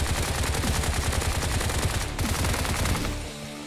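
A gunfight in the video game Bright Memory: continuous rapid gunfire rattling steadily for about three seconds, then cutting off and leaving a quieter tail.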